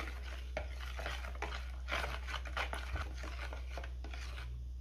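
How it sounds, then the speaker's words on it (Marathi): A spoon steadily stirs gulgule batter mixed with salt and baking soda, giving a continuous wet scraping with rhythmic swishes over a low background hum. "पुन्हा सगळं हे व्यवस्थित मिक्स करून घ्यायचे"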